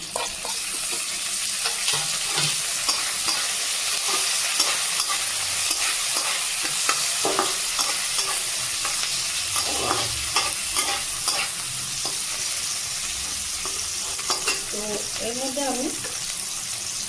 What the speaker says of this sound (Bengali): এবার দেবো আমি টমেটো কুচি